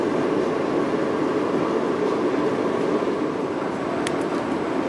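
Inside a moving passenger train near Bowie State, a constant droning roll of wheels and carriage hum with a ventilation-like hiss, even and close, one brief high squeal near the end, nobody talking.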